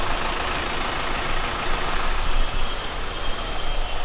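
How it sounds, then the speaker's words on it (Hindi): Dense road traffic jam with trucks on the highway to Lonavala in monsoon season, a steady loud broadband rumble of idling and creeping heavy engines throughout, swelling slightly midway, with no talk. "देखो ट्रैफिक।"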